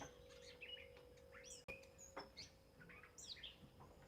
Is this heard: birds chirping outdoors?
yes